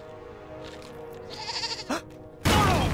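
A goat bleats in the King's Quest game, a short wavering bleat near the middle that is quickly followed by a sudden loud burst of noise.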